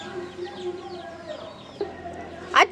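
Chickens cluck softly in a farmyard with a steady low background, then one bird lets out a sudden, louder squawk near the end.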